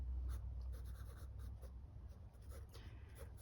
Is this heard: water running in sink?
no